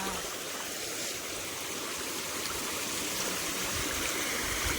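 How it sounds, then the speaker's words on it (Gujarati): Water pours steadily from the overflowing Govind lake in a village, a continuous rushing, gurgling flow heard close and even throughout with no break. "સામે ગોવિંદ તળાવ તો ઓવરફ્લો જ હશે."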